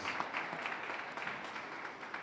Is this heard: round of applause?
yes